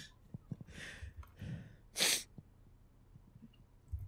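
A single sharp sneeze bursts out nearby, preceded by a couple of sharp inhaling breaths, then fades into quiet room noise.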